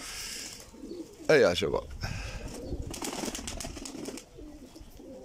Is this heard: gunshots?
no